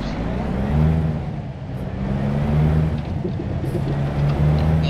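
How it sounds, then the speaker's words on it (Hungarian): Heavy truck engine in American Truck Simulator, a Volvo rig, droning steadily with a slight revving rise, while someone talks over it. "Hallod, ez a kamion úgy csinál, mint a Subaru."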